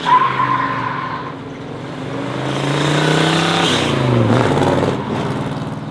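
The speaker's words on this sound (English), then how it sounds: "I was burning up some tires out here" A muscle car engine revs hard as tires squeal and skid in long, loud screeching sweeps on a dealer lot, the pitch sliding up and down close by.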